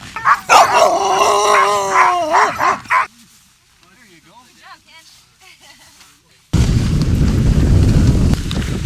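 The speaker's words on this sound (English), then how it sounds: "once they get harnessed, they get very excited and they do a lot of barking, howling, yelping, bouncing up and down" Excited sled dogs in harness bark, yelp and whine in a loud, dense chorus, fading to scattered high whimpers and yips before a sudden burst of heavy, close commotion at the end.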